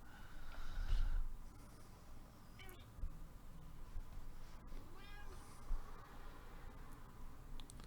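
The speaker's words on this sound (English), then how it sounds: "We have a cat who is not happy with the fact that I am live streaming today" An unhappy house cat meows a few times in a quiet room, the faint, distant cries rising over low background hiss with some soft breathing and movement.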